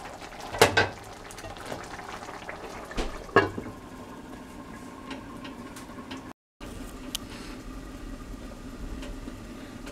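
Dal with lemon leaves simmering in a pot as it is stirred, a low steady bubbling hiss with a couple of sharp utensil knocks early on and a brief cut to silence, no voices.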